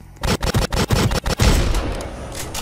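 Rapid bursts of gunfire from the Roblox game Framed, about eight loud, closely spaced shots in the first second and a half, then a quieter tail of game noise.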